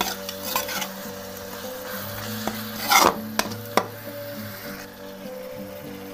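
Tomato roasting in a pan with cloves, black cardamom and a cinnamon stick for chhole: a steady sizzle with spoon scrapes and a few sharp clinks against the pan, close by and with no talk.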